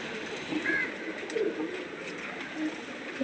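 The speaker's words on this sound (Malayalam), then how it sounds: "പിന്നെ നമ്മുടെ പുറത്താണ് പ്രാവുകൾ" Pigeons in a loft cooing softly, several low murmuring coos over a steady background hiss, fairly close but not loud, with no clear voices.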